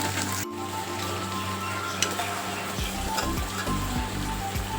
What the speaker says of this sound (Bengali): আর এদিকে দেখুন আমার পনিরগুলোও কিন্তু ভালো করে ভেজে নেওয়া হয়ে গেছে।